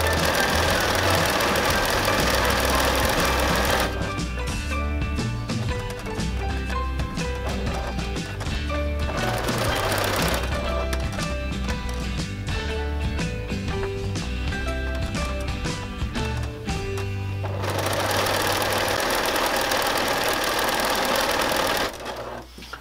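Domestic sewing machine stitching a folded-under hem on a Strickler #728 variation project, its steady mechanical whir running in bursts with short pauses between runs, loud and close with no talking.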